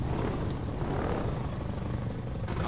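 Low, steady rumbling drone of an aircraft in the video game Half-Life 2, a continuous heavy engine roar with no speech over it.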